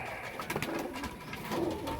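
Pigeons coo in a breeding loft, soft repeated calls with a steady rustle of birds all around, no voices, a fuller coo near the end.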